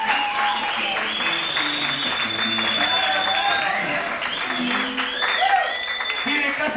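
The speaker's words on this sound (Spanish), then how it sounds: "¿Puede ser un aplauso para Graciela que nos prestó el local para tocar?" An audience at a small blues band gig claps for the woman who lent the venue, a sustained wash of applause with voices talking over it and some instrument tones lingering underneath.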